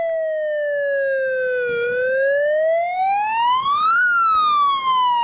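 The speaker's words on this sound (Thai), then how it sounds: "มีเสียงหวอด้วย เป็นโทรของที่ สามารถเปิดปิดเสียงหวอได้ด้วยนะ" A police siren on a toy prop in the Roblox game Brookhaven wails steadily and loudly, its pitch sliding slowly down, then rising, then dropping again, with no talk over it.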